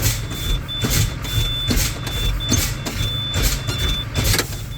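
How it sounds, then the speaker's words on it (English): A truck's air brake pedal is pumped again and again inside the cab during an air brake test, giving a series of regular hissing air bursts over a steady idling engine rumble, with no speech. "So I will pump my brake."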